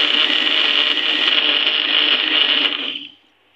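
A blender whirs loudly and steadily for about three seconds as it purees mango ice cream mixture, then winds down to silence.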